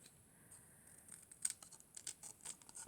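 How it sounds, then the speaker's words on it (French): Scissors snip through paper while trimming around a pumpkin drawing on an autumn card, a few short, faint crisp cuts spaced apart in a quiet room. "je vais un peu plus découper."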